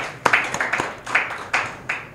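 Brief scattered applause from a small audience at a scientific endoscopy conference, a few uneven claps in short bursts, close and fairly loud, with no talk over it.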